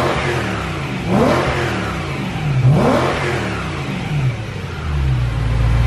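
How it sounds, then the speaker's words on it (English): A BMW E92 M3 with its V8 engine is revved through its exhaust, rising in two sharp climbs and falling back to a deep, loud idle close by, with no voices. "let's go ahead and sit you guys up and hear some exhaust clips."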